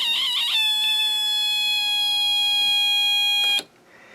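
A Snap Circuits whistle chip oscillating circuit: a warbling start settles into a steady, piercing high electronic whistle rich in overtones, held for about three seconds before cutting off sharply into quiet.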